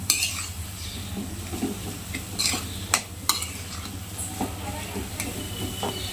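Potato samosa filling being stirred in a pan, soft scraping and clinks of a spoon against metal over a faint sizzle, with a few sharper knocks; no talking.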